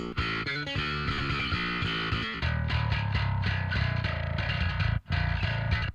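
Bass guitar driven hard through a distortion effect plays a chunky, gritty riff with rhythmic chord hits and a brief dropout near the end, loud and upfront with no voices.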